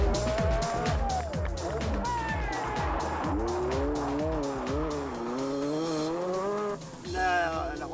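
A Renault 5 Turbo rally car sliding and racing, its engine revving hard through rising and falling gear changes, with tyres squealing as it skids, loud and close throughout.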